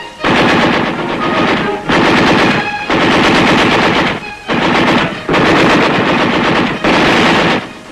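Sustained machine gun fire from a Vietnam-era tank battle, loud and close, in five long bursts separated by brief pauses, with no talk.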